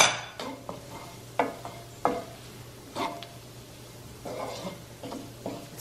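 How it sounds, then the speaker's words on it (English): A spoon scrapes and stirs flour around a hot pan in a series of short strokes, with a faint sizzle and a low steady hum underneath, and no talking. "we're gonna add the flour. Do not let this flour burn"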